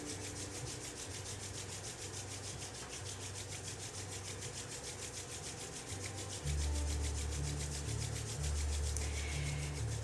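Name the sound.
hands rubbing together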